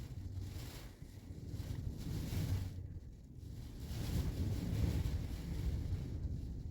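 Gusty wind rumbles and buffets steadily, a deep muffled rush rising and falling, heard from inside a car being shaken by the wind.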